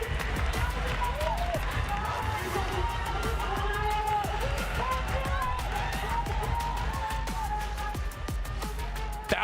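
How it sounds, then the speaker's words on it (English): Fans at an Apex Legends esports championship cheer and clap in a large arena, a dense roar of crowd noise and scattered shouts running continuously beneath voices talking over it. "the crowd shows them their support"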